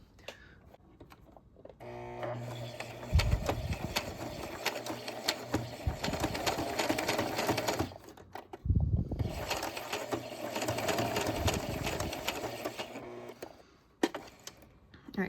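A sewing machine stitches rope for a ghost decoration in two slow bursts of whirring and clicking, each a few seconds long, separated by a short pause, with quiet handling noises between.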